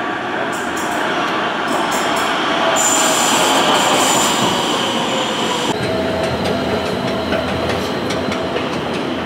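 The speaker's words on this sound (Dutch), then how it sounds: "De metro dan, niet de trein." A Rotterdam metro train rumbles past close by, loud and continuous, with squealing wheels and a rising, then steadier, rush of rail noise across the whole stretch.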